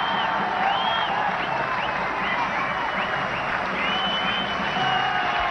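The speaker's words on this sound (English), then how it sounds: "acknowledging the crowd's support and cheer" A cricket crowd applauds Aravinda De Silva reaching fifty against Pakistan, with steady, dense clapping and crowd noise filling the ground and faint whistles or calls rising over the sustained ovation.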